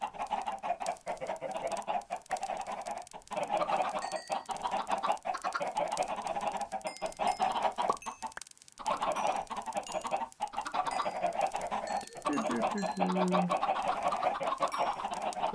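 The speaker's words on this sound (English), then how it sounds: "Many, many chickens." Many chickens clucking in Minecraft, a steady overlapping stream of game-style clucks and squawks running continuously at moderate loudness throughout.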